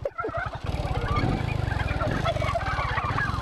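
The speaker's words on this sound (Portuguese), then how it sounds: "Os peru, mano." Several turkeys gobble in a rapid, rattling chorus that continues for the whole stretch, loud and fairly close, with no talking over it.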